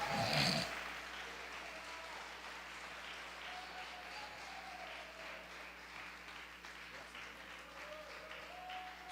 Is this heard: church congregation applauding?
yes